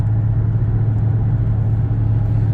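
A Dodge Challenger Redeye Hellcat cruises on the road with a loud, steady, low engine rumble and road drone, unbroken and without speech.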